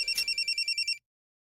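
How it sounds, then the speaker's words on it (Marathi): A telephone's electronic ring in a Marathi TV serial scene, heard as a fast pulsing burst of about nine warbling beats over one second. It cuts off abruptly into silence. "अहो फोन वाजतोय, तो घ्या म्हटलं तर कळत नाही ते काय"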